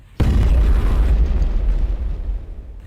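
A loud explosion in the Build engine shooter Shadow Warrior bursts suddenly, then rolls into a long, heavy rumble that slowly fades, with no voices.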